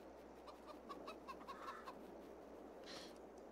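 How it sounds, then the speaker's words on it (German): Chickens cluck in a Farming Simulator 22 farmyard, a faint rapid series of short clucks over a steady low ambient hum, with no talk. "Diese Hühner sind auch geil."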